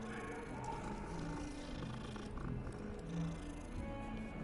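A cat in the Hogwarts Legacy video game purrs softly and steadily for several seconds, a low continuous rumble under faint game ambience.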